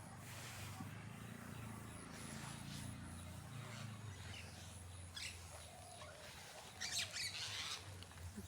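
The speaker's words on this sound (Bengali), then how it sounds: "কিচিরমিচির শব্দ।" Birds chirp and squawk at a distance through a quiet outdoor scene, with short, scattered calls in irregular bursts over steady low background noise. The chirping grows a little busier toward the end.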